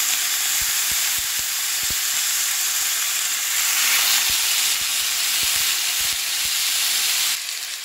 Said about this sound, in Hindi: तो अब हम इसमें अपनी स्टेक्स डाल देंगे